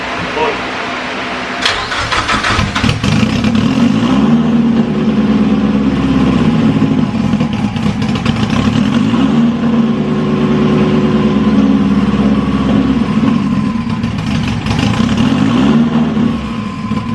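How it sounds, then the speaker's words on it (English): A 1000 WHP Mazdaspeed3 engine cranks, catches and settles into a loud, uneven idle that rises and falls over the following seconds, with people talking underneath. "The car finally turned on after 3 years."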